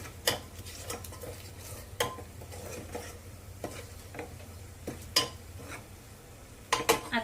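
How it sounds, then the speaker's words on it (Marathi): Prawns stirred with biryani masala and salt in a pan, a low sizzle under repeated metal spoon scrapes and clinks against the pan, close and uneven in rhythm. "हे सर्व मसाले व्यवस्थित मिक्स करून घ्यायचे"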